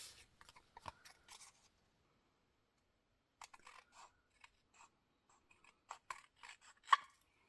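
Scissors snip away excess fabric scraps at a craft table, a quiet series of short, crisp cuts in scattered bursts with brief pauses between them.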